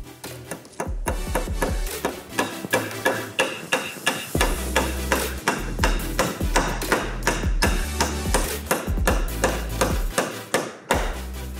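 A hammer strikes wood again and again while a wooden pallet garden is built, giving loud, sharp blows in a fast, steady rhythm with no talking.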